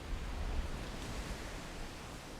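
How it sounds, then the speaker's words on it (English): Sea waves break against rocks on the shore at a sand mining site in Sierra Leone, heard as a steady broad wash of surf with no distinct individual crashes and no talk. "I can hear the waves breaking against rocks."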